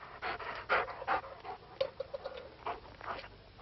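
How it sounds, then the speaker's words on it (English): Dogs pant close by in quick, uneven breathy bursts, with a brief whimpering tone partway through and no voices. "The dogs."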